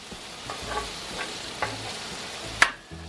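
Parboiled potatoes frying in a pan to form a crust, a low continuous sizzle with occasional scrapes and clacks of a utensil moving them, close by, no voices.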